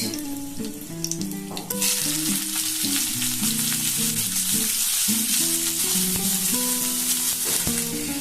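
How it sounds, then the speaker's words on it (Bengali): Onion and dried red chilli hit hot mustard oil with a sudden loud sizzle that stays dense and steady under an ongoing tonal melody, with light stirring and no speech. "সর্ষের তেল দুটো দেব শুকনো লঙ্কা একটু দেব পেঁয়াজ"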